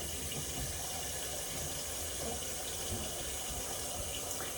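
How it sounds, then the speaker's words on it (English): Water runs from a tap in a steady, soft, even stream, with no break and no talking. "Let me shut the water off."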